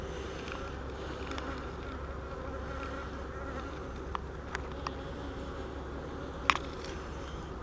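Honeybees buzz around emerging queen cells in a hive, a steady low hum of many bees with a few brief clicks and taps, fairly quiet.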